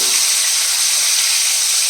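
Teasel gourd slices fry in hot oil alongside bitter gourd, producing a loud, close, steady hiss and sizzle that continues without pause and without speech.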